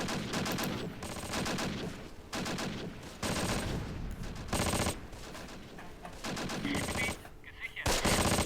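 Machine gun fire in the Close Combat World War II strategy game during an SS Panzer attack on a French village, dense sustained rattling bursts separated by brief gaps, loud and continuous.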